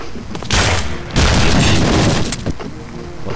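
Gunfire in the video game Black Shades: a loud blast at about half a second, then a longer, denser burst of shots and rumble that fades out near the end.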